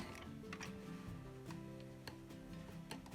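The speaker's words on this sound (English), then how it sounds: "crank the machine" A $20 Hello Hobby toy knitting machine being cranked, giving a close, quiet stream of plastic gear clicks and a ratcheting whir with a steady mechanical rhythm, alone without talk.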